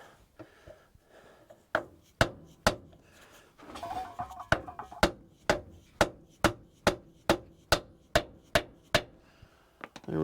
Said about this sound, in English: I personally like to use a soft mallet to tap this stuff in.